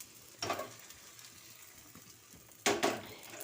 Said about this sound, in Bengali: এবার আমি কড়াটা শুধু তলার দিকে নেড়ে দিচ্ছি, যাতে সবের মধ্যে তেলটা যায়।